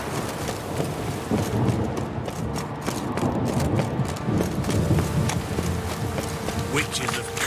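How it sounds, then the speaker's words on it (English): In The Witcher 3: Wild Hunt, witches conjure a storm, and steady rain hisses under a low thunder rumble, with faint voices and a buzzing insect-like drone over it. "Witches have conjured rain."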